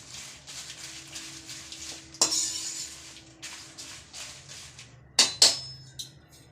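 A utensil stirring powder roasting in a hot pan while making rasam powder, giving sparse, faint scrapes and a few sharp metallic clinks, with a louder double clink near the end.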